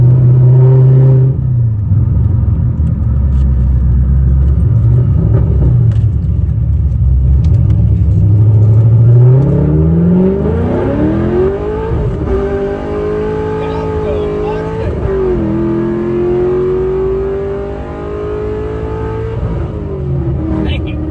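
A Pontiac GTO with an LS2 V8 roars close by as it accelerates hard, its engine note climbing through the gears with a deep rumble, and excited voices speak over it.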